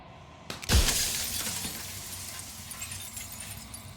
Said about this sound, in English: And then another crack forms, and another, turning the mirror into jagged shards of broken glass